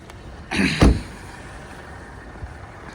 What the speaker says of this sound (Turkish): Şimdi kaputu açacağım size göstereyim.